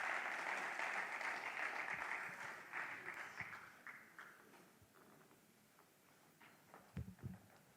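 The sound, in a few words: audience applause at an award ceremony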